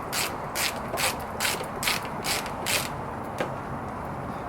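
A ratchet wrench works a 14mm bolt on the master cylinder of a Kawasaki KZ400 motorcycle, giving about seven short bursts of metallic ratcheting clicks in a steady rhythm, close and clear with no talking.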